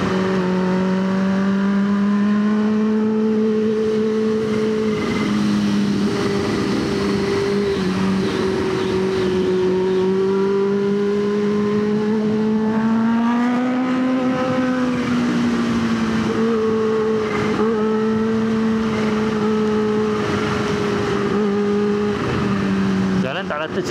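A Kawasaki H2 motorcycle engine runs on an uneven road, with a loud, continuous drone that rises and falls in pitch as the throttle changes. Faint crackles break through, and a rider talks over it throughout.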